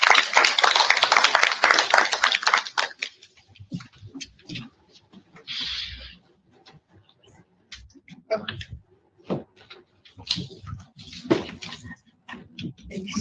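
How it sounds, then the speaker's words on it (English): At a City of Johannesburg dialogue event on gender-based violence, an audience gives a loud round of applause for about three seconds, then it breaks into scattered claps, clicks and shuffling as the room settles. "Please give a round of applause."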